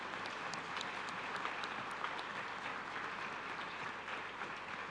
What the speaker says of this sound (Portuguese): Uma forte salva de palmas, igreja.